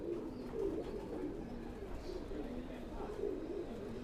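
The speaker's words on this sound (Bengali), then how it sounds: "এই সেই MA3 কবুতর" MA3 pigeons coo softly in low, rolling repeated calls, faint and close, with a quiet murmur of people in the background.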